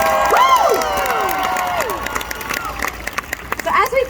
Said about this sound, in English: Please, everybody give a big round of applause for my keyboard player, Brian.